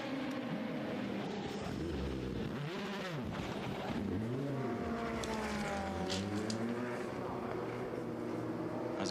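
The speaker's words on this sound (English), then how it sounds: "exiting the pits, the 38 car" The leading number 38 Le Mans prototype race car pulls out of the pits during the 24 Hours of Le Mans, its engine rising and falling as it shifts gear, loud and steady under the general circuit noise.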